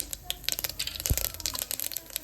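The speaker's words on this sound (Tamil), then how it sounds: "ஆயில் ஹீட் ஆனதும் கடுகு, உளுந்தம்பருப்பு," Mustard seeds and urad dal crackle and pop in hot oil inside a pressure cooker, a quick irregular patter of sharp snaps at moderate volume with nobody speaking.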